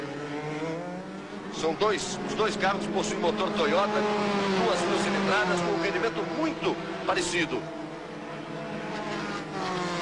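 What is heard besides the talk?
Formula 3 race cars with Toyota 2-litre engines at Silverstone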